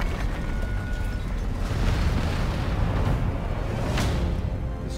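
A pillar is blown up in Sniper Elite 5, producing a sustained, loud, rumbling blast that rolls on for several seconds, with a sharper crack near the end.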